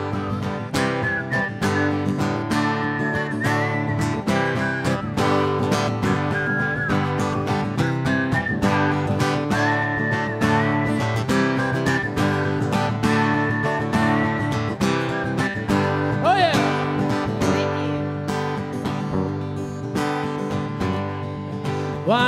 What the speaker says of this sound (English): Come on, everybody, whistle with us.